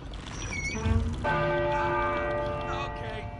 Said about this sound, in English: Here's a bell.